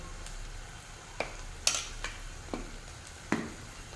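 Spinach vegetable curry with taro, radish, aubergine, potato and prawns is stirred in a pan, giving a few sharp scrapes and taps of a spoon over a faint sizzle, close and quiet.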